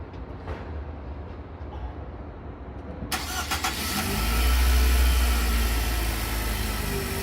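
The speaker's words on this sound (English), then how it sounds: "ensure that the vehicle starts up" A car engine cranks and fires up after the battery has been disconnected, a sudden starter burst followed by a steady, rising idle rumble close by.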